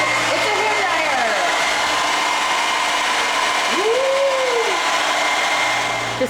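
A hair dryer runs steadily in a small museum STEAM lab room, a loud continuous whir throughout with a few pitch sweeps and faint voices in the background.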